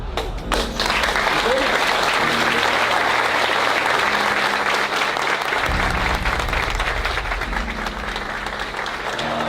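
Sustained audience applause at a Brazilian football talk-show studio, steady and dense for the whole stretch, with a low hum running underneath.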